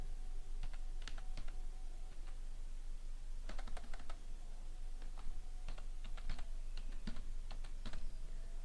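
Typing on a computer keyboard while entering text in Microsoft Word 2007, close, crisp key clicks in irregular bursts over a steady background hiss, no talking.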